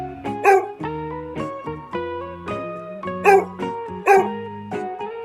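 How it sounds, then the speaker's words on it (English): A dog barks a few times in short, sharp yaps over a bouncy, melodic tune playing steadily throughout. "Here comes a dog." The dog says,"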